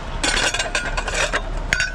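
Discarded plates clink and clatter together as they are handled while dumpster diving, a series of sharp close ceramic knocks.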